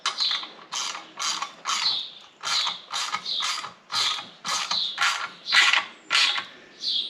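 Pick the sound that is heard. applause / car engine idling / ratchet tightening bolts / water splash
ratchet tightening bolts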